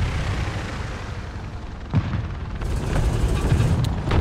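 A Pz.35t tank cannon firing in War Thunder gives one sharp, booming shot at close range, then a rumbling tail over steady low engine and battlefield noise.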